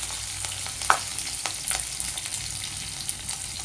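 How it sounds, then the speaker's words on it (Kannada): Cumin seeds and green chilies fry in hot oil in a pan for crispy soya Manchurian, making a steady, close crackling sizzle with small pops and a little stirring, and no one speaks. "ಎಣ್ಣೆ ಕಾದ್ಮೇಲೆ ಜೀರಿಗೆ ಹಾಕ್ಕೋಬೇಕು, ಹಸಿಮೆಣಸಿನಕಾಯಿ,"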